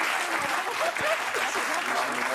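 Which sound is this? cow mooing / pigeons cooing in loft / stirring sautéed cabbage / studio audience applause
studio audience applause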